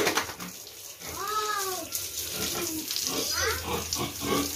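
Sows on a pig farm squeal and grunt in repeated, rising bursts while being bathed with water, with splashing and running water underneath and a voice briefly heard nearby.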